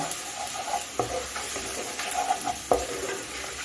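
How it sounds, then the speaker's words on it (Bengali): Spice masala with a splash of water frying over a medium flame, a steady sizzle broken by a few sharp scrapes and knocks of the spoon against the pan. "এখন মশলাটা আমি মিডিয়াম ফ্লেমে রেখে গ্যাসটা ভালো করে কষিয়ে নেব।"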